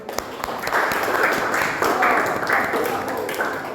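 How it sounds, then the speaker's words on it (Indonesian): Students in a classroom clap for the first group after a presentation, a brief burst of hand claps with a rhythmic pattern, close and moderately loud, with voices mixed in. "beri tepuk tangan untuk kelompok 1"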